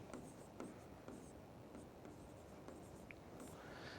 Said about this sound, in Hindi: तो संजय कैसे लिखेंगे हम